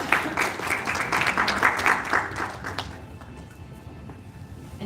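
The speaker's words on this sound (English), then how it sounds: "Round of applause for Neil." Audience applause for a speaker at a live event: lively clapping from a modest crowd for about three seconds, then fading out into quiet room noise.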